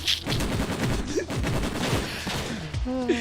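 Gunfire from the video game The Hand of Fate: a dense run of shots and bursts over a steady game soundscape, loud and close, with a brief voice near the end.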